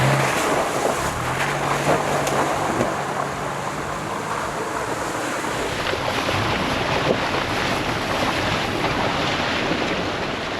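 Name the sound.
off-road vehicle sloshing through water in a creek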